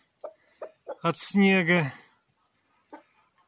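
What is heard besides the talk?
hens clucking outdoors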